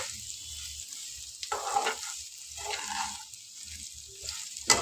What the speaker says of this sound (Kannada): ಚೆಂದ ಎಣ್ಣೆಲಿ ಫ್ರೈ ಮಾಡ್ಕೋಬೇಕು